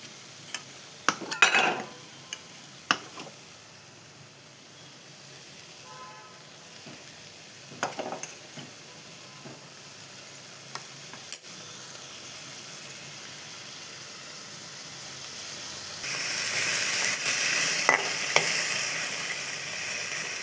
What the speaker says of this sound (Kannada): ಈ ರೀತಿ ಫ್ರೈ ಆಗುತ್ತೆ ಚೆನ್ನಾಗಿ ಫ್ರೈ ಆಗಿದೆ